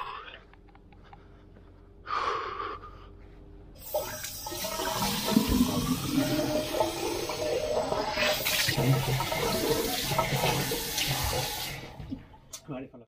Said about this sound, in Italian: ho trovato dei rubinetti dove mi sono rifornito d'acqua